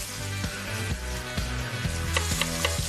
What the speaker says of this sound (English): Now that bacon's getting really nice and crispy